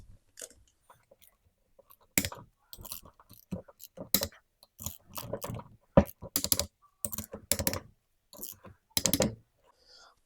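A torque wrench tightens bolts on a Classic Mini gearbox differential unit, giving a series of close, sharp ratcheting clicks in irregular bursts, separated by short pauses of near silence.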